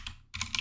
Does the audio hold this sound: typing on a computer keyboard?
yes